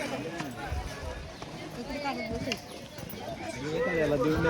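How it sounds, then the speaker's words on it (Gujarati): A Marwari mare walking on a rough, stony mountain path, irregular hoof clops beneath someone speaking loudly close by, fairly faint against the voice. "આ એક મારવાડીની ઘોડી એવી છે બહુ એટલે બહુ ખતરનાક છે"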